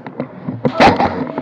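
Airsoft gun fire at an indoor arena during a territories game, a few quick close pops followed by a louder burst, with brief talk in the background.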